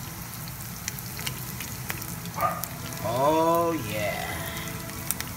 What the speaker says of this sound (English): Just pan fry them like so.